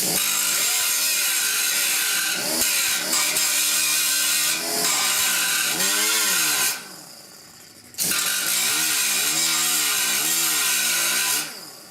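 An angle grinder grinding down a weld on a rusted core support of a 1969 C10 truck, a loud continuous whine that rises and falls in pitch as it bites the metal, with one short pause before starting again.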